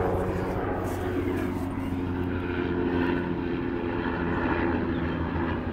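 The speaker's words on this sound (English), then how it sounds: "Sorry, there's a helicopter." A loud, steady helicopter engine drone with low pulsing rotor tones hangs overhead throughout, without pause.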